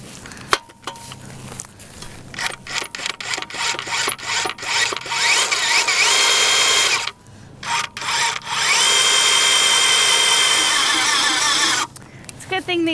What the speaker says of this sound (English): I brought out the auger